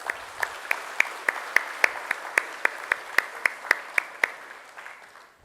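Rhythmic audience applause at a university achievement celebration, sharp synchronized claps in a steady beat, about three per second, over a softer wash of scattered clapping that fades at the end.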